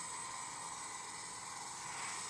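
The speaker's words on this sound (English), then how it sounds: "we'll turn the lathe on now" A wood lathe motor runs steadily at low volume with a constant hum and a thin high whine, with no breaks, while a turned block head spins for a finish coat.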